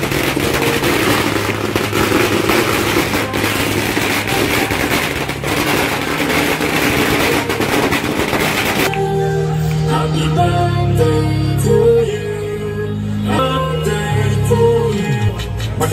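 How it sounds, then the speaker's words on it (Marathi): Fireworks bursting at a village birthday celebration, a dense, rapid crackling barrage of pops and bangs for several seconds before it gives way to music. "फटाक्यांच्या आतिषबाजीने"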